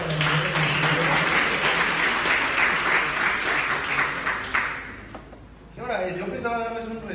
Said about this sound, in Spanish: Muchísimas gracias. Un aplauso,